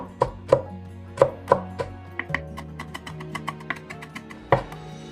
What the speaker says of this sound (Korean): 청양고추는 고추 화상을 입을 수 있기 때문에 반드시 뒤집어서 다지십시오